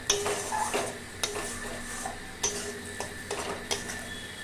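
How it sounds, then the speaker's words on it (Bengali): Spice paste being sautéed with a splash of water in a pan for a milk-cauliflower curry, heard as scattered spoon scrapes and clinks against the metal over a soft, steady sizzle, with no talking. "আর একটু জল দিলাম এই মশলাটাকে একটু ভালো করে আমি কষিয়ে নেব"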